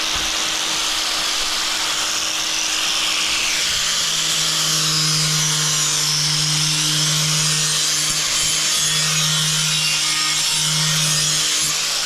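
A polishing pad buffs the sharp edge of a bathroom floor, giving a steady, close abrasive whir with a sustained droning hum throughout, loud and continuous without pause.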